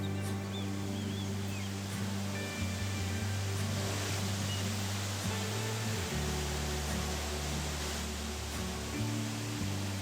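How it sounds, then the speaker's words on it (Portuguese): Santo Isidro waterfall in Serra da Bocaina National Park, Brazil, a steady broadband rush of falling water heard close and continuous, with low tonal hum underneath and no talking. "A Cachoeira Santo Isidro é a primeira que encontramos no caminho."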